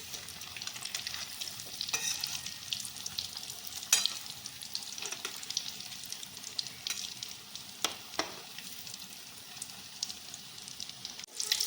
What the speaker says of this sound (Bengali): খুন্তির সাহায্যে উল্টে পাল্টে ভালো করে ভেজে নেব।